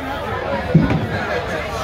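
A concert crowd chatters in a dark venue before a band takes the stage, a steady murmur of many voices with one brief louder voice standing out near the middle.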